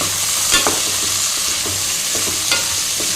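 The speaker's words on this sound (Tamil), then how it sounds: "அதையும் சேர்த்து நல்லா கிளறி விட்டுக்கலாம்." Continuous sizzling of pumpkin frying in a pan for idli sambar, with occasional scrapes and clicks of a spoon stirring, close by and fairly loud.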